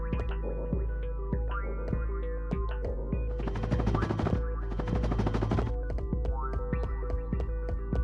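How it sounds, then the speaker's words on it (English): Explosion effect from the PS2 game Ratchet & Clank 2: two loud, crackling blasts in the middle of the clip, set over steady tonal game music and scattered short clicks. "This wonder of an explosion was created especially for Ratchet & Clank 2."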